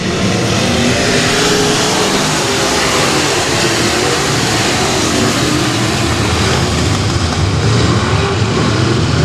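Race cars roaring around the Ark-La-Tex Speedway oval, engines revving loud and continuous as the pack passes close, with a dense mechanical roar filling the whole stretch.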